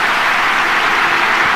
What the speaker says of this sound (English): big round of applause for Gattuso